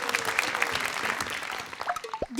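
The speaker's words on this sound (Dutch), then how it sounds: "Applaus voor de juffen, meesters, papa's, mama's, opa's en oma's die mij hebben geholpen" Audience applause at a children's recitation contest in Panningen, a dense patter of clapping that thins toward the end as a few voices and sounds break through.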